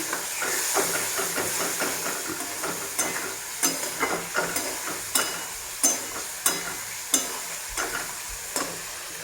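Water poured into a pan of sizzling cauliflower and potato curry sets off a loud, steamy hiss, with a rhythmic series of stirring scrapes and clacks repeating throughout, close and without speech.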